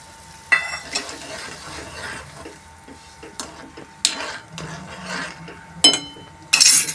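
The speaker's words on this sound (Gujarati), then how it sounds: "કોર્નફ્લોરને પાણીમાં મિક્સ કરી કોર્નફ્લોર એમાં ઉમેરવાનો છે." Cornflour mixed with water being poured and stirred into a simmering mixed vegetable soup in a pot, with soft stirring, bubbling and a few sharp clinks of a spoon against the pot, no voices.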